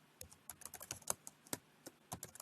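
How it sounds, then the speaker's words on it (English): Light typing on a computer keyboard: a short run of distinct, crisp key taps in an uneven rhythm, close and fairly quiet, with no other sounds. "then I'll just type it in"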